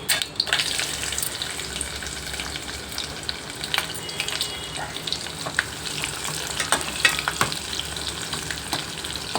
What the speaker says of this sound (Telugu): ఇప్పుడు వెల్లుల్లి వేసుకోవాలండి